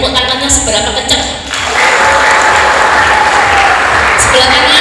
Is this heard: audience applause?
yes